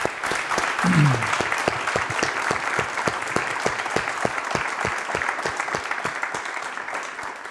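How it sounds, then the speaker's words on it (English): An audience at a public architecture talk applauds the guest speakers with steady, sustained clapping that fills the whole stretch, with a brief voice sounding near the start. "Okay, applause for our guests, please."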